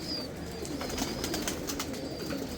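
Male and female pigeons released from a loft, with soft cooing and faint wing flutters over a steady outdoor background hum.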